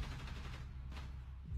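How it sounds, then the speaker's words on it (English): Rapid bursts of gunfire crackle at a distance in Rainbow Six Siege, a steady rattle of shots under a low rumbling background. "Hearing gunshots."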